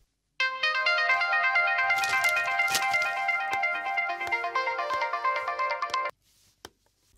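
An incoming-call phone ringtone in a Telugu film scene plays a loud, bright repeating melody for about six seconds and then cuts off, leaving near silence.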